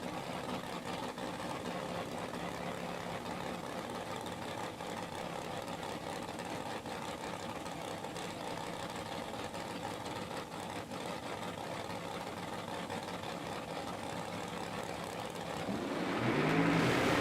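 Drag racing car engine during a final-round pass at the Snowbird Outlaw Nationals, a steady dense roar that holds for most of the run and swells louder near the end as the driver goes in and out of the throttle.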